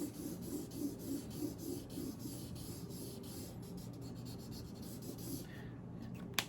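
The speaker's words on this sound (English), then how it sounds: "keeping the marker on the paper at about this speed" A marker drags across wet paper in repeated straight strokes, a soft, close, rhythmic scratching that speeds into quicker short strokes toward the end, faint but continuous with no talk over it.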